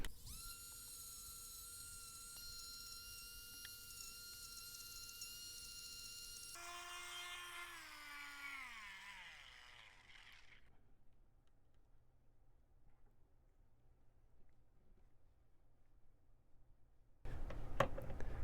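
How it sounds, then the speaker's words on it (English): A rotary tool deburrs the end of a freshly cut metal rod for an RC plane build, with a high whine that drops in pitch as it winds down and stops, then a brief clatter at the end. "Now I'll get the burrs off the end."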